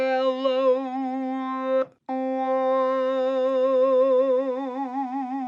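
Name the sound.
Korg microKORG synthesizer talk box patch with LFO2 modulation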